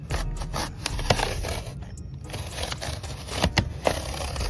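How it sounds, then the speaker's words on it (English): A box cutter slices a flap off the front of a cardboard box holding an ebike, heard as close, continuous scraping and tearing with small crackles and clicks, no talk. "we're gonna come over here, right to the front of the box, and we're going to just cut this flap off"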